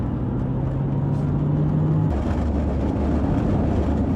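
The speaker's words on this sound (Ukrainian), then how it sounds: "Я думаю, ви чуєте, да, як панелька дрібіжить" A loose dashboard panel rattles inside a Porsche 911 taxi on a city street, a steady buzzing vibration over continuous low road and engine rumble.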